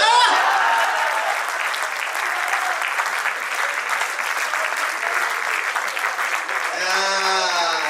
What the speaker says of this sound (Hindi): तालियां उठती हुई ये बता रही हैं कि सभी खतरों के खिलाड़ी हैं।